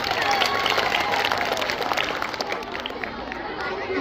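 Audience applause at a school Independence Day performance at Islaheaam Inter College, Bhaguwala: a dense, steady wash of clapping with crowd chatter mixed in, easing off slightly toward the end.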